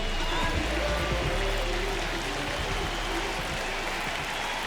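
A stadium crowd in the video game MLB The Show, during a Boston Red Sox versus Cincinnati Reds baseball game, gives a dense, steady roar of cheering and applause throughout with no breaks.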